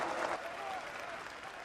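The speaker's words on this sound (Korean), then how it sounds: "엄청난 함성과 박수가 울려 퍼지는 이곳은 독일 교회" A large crowd inside a German church during the Second World War roars and applauds in a dense, continuous wash of clapping and cheering, with a voice speaking over it.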